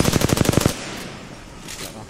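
Automatic weapon fire in the Apex Legends battle royale game: a loud, rapid burst of about eight close shots over the first three-quarters of a second, then quieter game ambience with faint distant noises.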